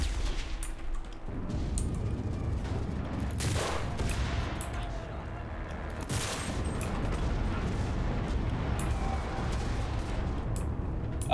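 Sustained gunfire from WW2 squad-based shooter game Enlisted, a dense, continuous barrage of rifle and machine-gun shots with sharper bursts near the start and middle, loud and unbroken throughout.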